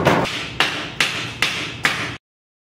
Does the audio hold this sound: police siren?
no